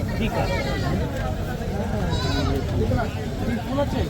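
Young billy goats, four to five months old, bleat at the busy Monday goat market in Kalamb, with repeated wavering cries heard under a steady babble of voices and market noise.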